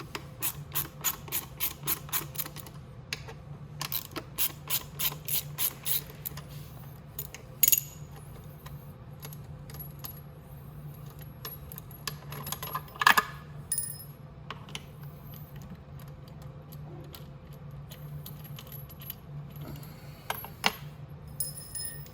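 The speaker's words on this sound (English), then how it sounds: "we're just going to get the cover popped off" A Venom x22GT 250cc motorcycle's CVT cover is pried loose by hand, producing quick rhythmic plastic clicks at first, then sparse sharper snaps and light rattles against a quiet workshop hum.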